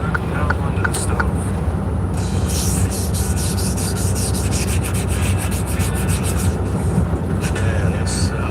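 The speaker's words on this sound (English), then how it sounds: "I'm sanding this as a compressor work." Hand sanding an old stove: steady rough rubbing strokes run throughout, close and fairly loud, with a rhythmic scraping texture and a constant low background hum.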